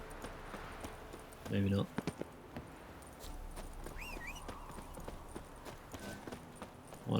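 Horse hooves clip-clopping in The Witcher 3: Wild Hunt, a steady walking rhythm of light, close hoofbeats with brief game sounds and someone talking over them.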